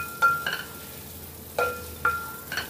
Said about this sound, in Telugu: ఈ అటుకుల్ని స్టవ్ని సిమ్లో పెట్టేసి వేపుకోవాలండి, హైలో పెట్టకూడదు